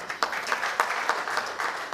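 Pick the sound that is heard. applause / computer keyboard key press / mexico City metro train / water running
applause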